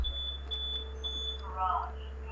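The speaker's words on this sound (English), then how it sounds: "I'm very sorry if you just heard a loud beep in the background." A loud electronic beep, like a smoke alarm chirp, sounds in the background of a room during a Zelda gameplay session, with a steady low hum and game audio underneath.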